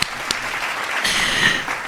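Brief burst of audience clapping at a political gathering, a dense moderate patter with a couple of sharper claps, fairly close.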